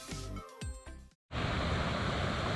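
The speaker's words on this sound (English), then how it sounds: "The setting will be in a park with fountains and water streaming around." Park fountains with water streaming around, a steady, loud broadband rush of splashing water heard outdoors after a brief gap, recorded through a true wireless earbud microphone.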